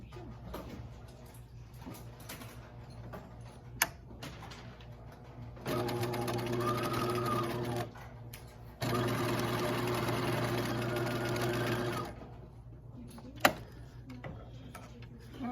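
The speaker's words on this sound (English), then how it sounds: "I've stitched the sleeve together" A sewing machine stitches a sleeve seam on a romper, running in two steady bursts of several seconds each with a short pause between them, moderately close and without talk.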